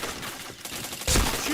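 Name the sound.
gunfire in a shooting video game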